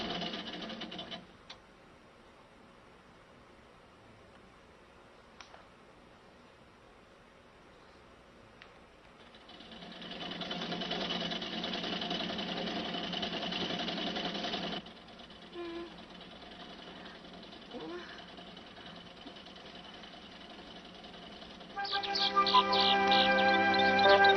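A sewing machine runs in an animated series, giving a steady, even whirr for several seconds in the middle of a quiet stretch. It is followed by faint ticking and a brighter rattling burst near the end.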